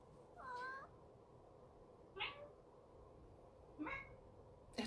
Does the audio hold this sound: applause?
no